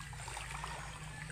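A swollen river rushes past a swimming spot with a soft, continuous wash of flowing water, steady and fairly faint throughout the short stretch with no talking.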